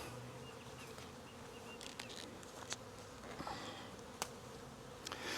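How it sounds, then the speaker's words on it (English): Faint, steady buzzing of many bees around a hive in the open air, with occasional closer insects zipping past and a few soft clicks. "you've got a whole bunch of bees flying around here"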